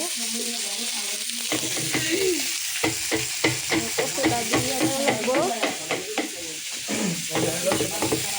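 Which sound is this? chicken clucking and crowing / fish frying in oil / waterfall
fish frying in oil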